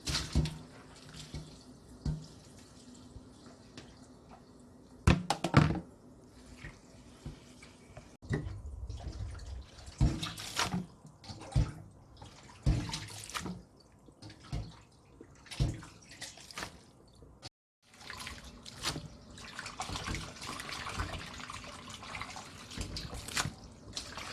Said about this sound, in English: So we wash with clean water 3 times.